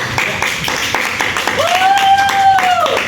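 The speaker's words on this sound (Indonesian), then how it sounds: "Kita beri tepuk tangan dulu sekali" Applause and scattered clapping at the close of an Indonesian talk-show episode, a steady dense patter filling the short stretch while a voice carries a rising tone over it partway through.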